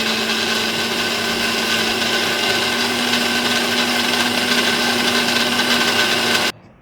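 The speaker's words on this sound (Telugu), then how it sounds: "నిదానంగా నీళ్ళు పోసుకుంటూ మిక్సీ పెట్టుకోవాలి." A kitchen mixer grinder grinds neer dosa rice batter with a loud, steady motor whine and churning roar that holds evenly for several seconds before cutting off abruptly.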